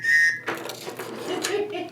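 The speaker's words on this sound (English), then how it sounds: "Every Tops knife comes with a survival whistle." A survival whistle that comes with a Tops knife gives one loud, shrill blast at the very start, then cuts off into room noise and a voice.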